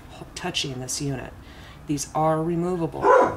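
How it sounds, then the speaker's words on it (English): A pet dog barks in a few short, loud bursts indoors, breaking in between and over a person's talking while they work on a homemade spinwheel. "That was my dog"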